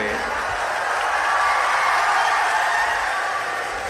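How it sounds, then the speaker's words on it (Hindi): A hall audience of college students claps for a speaker, producing a steady, dense wash of applause that holds at an even level for the whole stretch. "अब आपके कॉलेज के बच्चे तो ताली तो आप बजाओगे ही सही"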